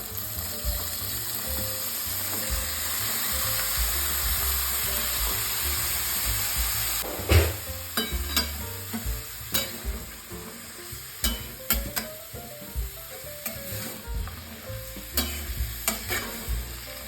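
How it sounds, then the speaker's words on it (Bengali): Diced potatoes sizzle and fry steadily in mustard oil while a spoon scrapes and stirs them around the pan in repeated close, sharp strokes. No one speaks. "আলুগুলো ভালোভাবে সরিষার তেলের সঙ্গে নাড়িয়ে চাড়িয়ে"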